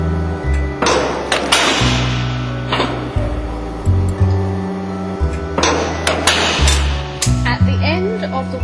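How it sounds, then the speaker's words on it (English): AW813 automatic cold pressure welder running weld cycles on aluminium or copper wire: repeated metallic clanks and thumps in a steady mechanical rhythm, close and fairly loud, with a motor hum and someone talking over it. "A weld cycle is started by depressing the foot switch."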